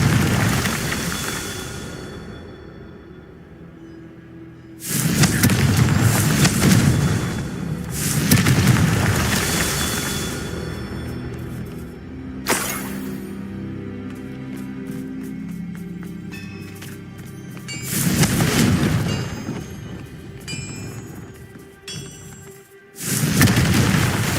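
Confringo blasting spell explosions in a video game trial: several loud, deep blasts, each swelling and rolling off, separated by quieter stretches of ambient tones and faint rattling.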